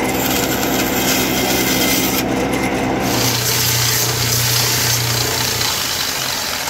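Store-bought wooden dowels cut during furniture repair, producing a loud, continuous rasping saw sound with a steady mechanical drone throughout, changing tone partway through the cut.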